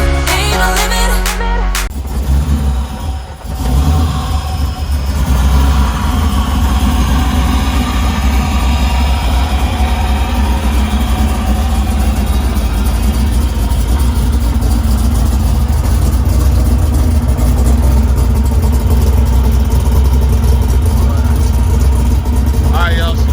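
Nissan 240SX drift car engine idling while warming up, a loud rough rumble holding steady throughout, with a person talking over it.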